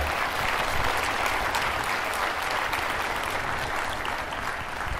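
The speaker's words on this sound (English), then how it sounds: "Yes, that's worthy of an applause." A keynote audience breaks into sustained applause, a full, even roar of clapping from many people filling the room without pause for several seconds.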